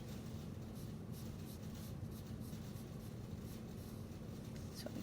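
A pencil lightly draws a circle on paper while sketching an eye for a portrait, giving a faint, steady, continuous scratching close by, with no talking.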